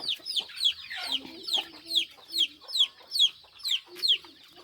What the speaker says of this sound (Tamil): இப்போ இந்த கோழி பறிங்க எவ்வளோ வீச்சு வீச்சுன்னு கத்துது